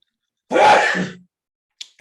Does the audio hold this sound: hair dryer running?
no